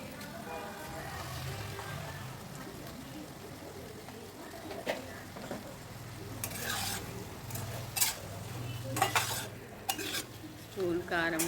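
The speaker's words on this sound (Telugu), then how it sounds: "అలాగే ఉప్పు వేసుకొని బాగా మిక్స్ చేసుకోవాలి" A spoon stirs salt and chili powder into an eggplant curry in a pan, scraping and clinking in bursts over a soft sizzle, with a voice talking at times.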